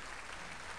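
Clapping in the video game Battleblock Theater, a dense burst of crowd-like applause, steady and fairly faint, with no voice over it.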